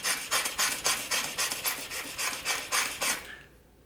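A stiff nylon bristle brush scrubs back and forth over painted tile in about nine quick, rhythmic rasping strokes, close and fairly loud, stopping abruptly near the end.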